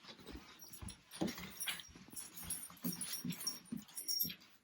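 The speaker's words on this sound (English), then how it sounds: "She has a playmate in our dog Sylvie." Sylvie the dog whimpers and whines in short, breathy bursts mixed with panting and light scuffling, a quiet, close, restless sequence with no one talking.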